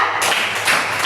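A group of people clapping hands together on a spoken count in a classroom-style call-and-response game, a few quick close claps over a noisy, bright background.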